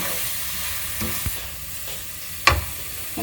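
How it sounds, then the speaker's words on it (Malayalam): Coriander powder, garam masala and pepper powder are stirred into a frying chicken biryani masala, a continuous close sizzle with a few spoon scrapes and one sharper clack. "മല്ലിപ്പൊടി, ഗരം മസാല, കുരുമുളക് പൊടി, ഇതെല്ലാം കൂടെ മിക്സാക്കുക."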